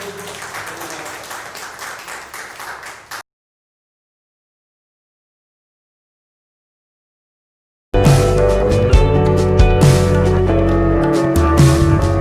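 A church congregation at Sunday worship claps in praise, a dense sustained burst of applause after a stretch of silence, loud and close with music-like tones mixed in.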